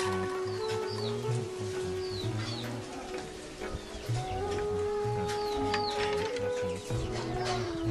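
Chickens cluck amid a busy outdoor scene, with repeated short bird calls and chirps over a steady, dense background murmur.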